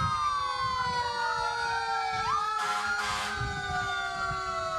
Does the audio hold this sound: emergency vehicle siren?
yes